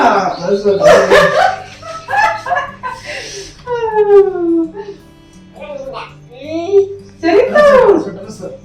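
A puppy yips and barks in short, high bursts, with a few whimpering cries, up close, mixed in among people talking.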